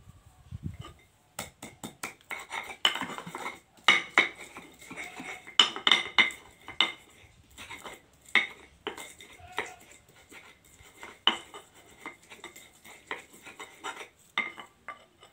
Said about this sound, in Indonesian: Kita ulek dulu ya bawang merahnya ya